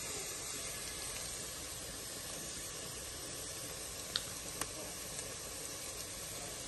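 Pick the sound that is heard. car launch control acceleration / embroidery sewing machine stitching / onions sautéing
onions sautéing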